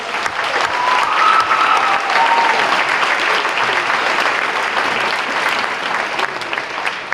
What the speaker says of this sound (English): how about a huge round of applause to Sylvia Lewis